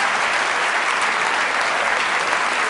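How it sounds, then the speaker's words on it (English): Loud, steady applause from a theatre audience at a live mental-math performance, a dense continuous wash of clapping with no gaps. "let's give all 4 of these people a nice round of applause"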